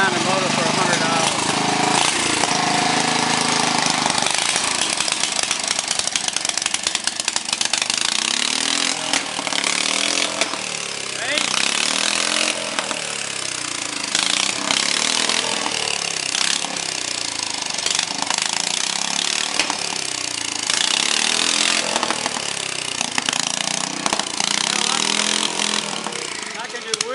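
A rat rod tractor motor fitted with a generator starter fires up and runs on the ground, a loud, rough, continuous engine roar that fills the whole stretch without letup.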